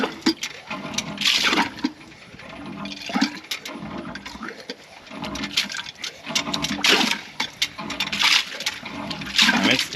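A water pump in an unusual setup sucks air along with water, making repeated loud, bubbly gurgling surges in an uneven rhythm, close by with no talk over it.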